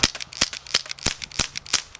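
Rapid sharp cracks from an H&K USP CO2 air pistol fired at a pizza box target, about six close snappy shots in quick succession with faint clicks between, no talking.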